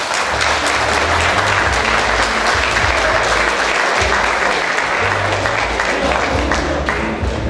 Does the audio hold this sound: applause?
yes